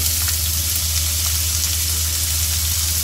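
Capsicum, onion and tomato going into a hot pan, producing a loud, continuous frying hiss that holds evenly throughout with no one speaking.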